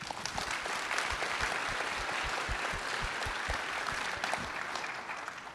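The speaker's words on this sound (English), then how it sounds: "let's celebrate again, everyone, with a big round of applause" A conference audience at a plenary session breaks into steady, dense applause that holds at an even level throughout, with a few sharper claps standing out near the front.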